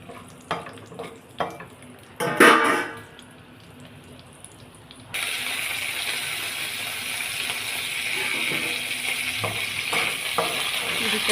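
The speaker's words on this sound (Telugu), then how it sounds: "ఉల్లిపాయలు వేసుకొని పోపు వేసుకోవాలి." Onions and curry leaves are tempered in oil with cumin and mustard seeds for a red chilli chutney. A few clattering knocks come first, then a steady bright sizzle starts abruptly and continues to the end, with occasional stirring.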